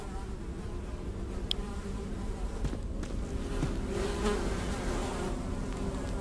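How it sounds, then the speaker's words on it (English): Flies buzz steadily around a latrine in the game Secret of Weepstone, a continuous close insect drone with a few faint soft thuds and shuffles beneath, no voices. "Despite the buzzing flies, you hear the faintest sound of rushing water that seems to be coming from the farthest hole."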